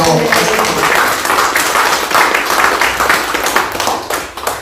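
A congregation at a live worship service claps hard and fast, a loud, dense, continuous roar of overlapping hand claps filling the room without pause.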